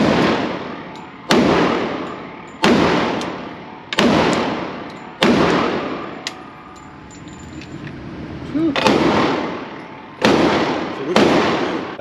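A S&W M&P 2.0 10mm pistol fires bear loads outdoors, eight sharp, loud shots spaced about a second or more apart, each with a decaying echo, and a quieter gap falls midway.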